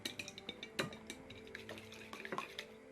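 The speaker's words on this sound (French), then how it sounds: "Je mélange bien." Beaten eggs with salt and pepper are mixed in a bowl for Japanese tonkatsu. There is soft, quick clinking and scraping of a utensil against the bowl with faint liquid sloshing, quiet and close.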